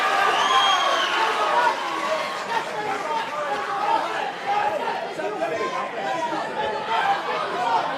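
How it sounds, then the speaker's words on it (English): A dense crowd at a sold-out combat sports fight night at the Eatons Hill Hotel murmurs and chatters continuously, loud and close, with scattered shouts rising out of the steady hubbub. "The crowd here at the sold-out Eatons Hill Hotel for Beatdown Promotions 3 are making their presence known."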